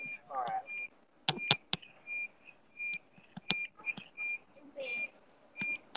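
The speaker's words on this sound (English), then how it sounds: "Just heard beeping too." Short repeated electronic beeps from a car, steady tones recurring through the clip with sharp clicks and a brief muffled voice in between, fairly quiet and close.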